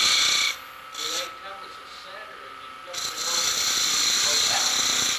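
A ring tool cuts a captured ring on a wood lathe, giving a raspy scraping hiss that comes in short bursts, then settles into a sustained cut.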